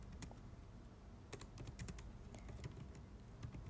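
Quiet, irregular tapping on a computer keyboard, a scatter of soft key presses clustering into short bursts over a low background hum, with no talk.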